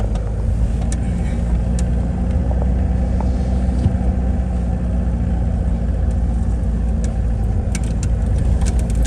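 A car runs with a steady, close engine rumble beside a riverside landfill, its loud drone continuing evenly throughout with no voices.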